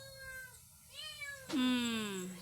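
A house cat meows at close range indoors, with a couple of short, tonal cries followed by a louder, drawn-out meow that falls in pitch.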